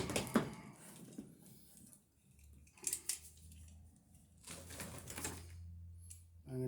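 Cutters snipping through electrical cable while wiring a split kitchen circuit, a few quiet crisp clicks and snaps spread over several seconds with near silence between them.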